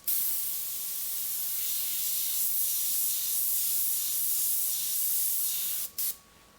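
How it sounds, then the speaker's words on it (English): An airbrush sprays paint onto a scrap piece of paper in a steady, even hiss that runs unbroken for several seconds, then cuts off briefly and resumes for a moment before stopping; no one speaks. "make sure that my airbrush is spraying correctly"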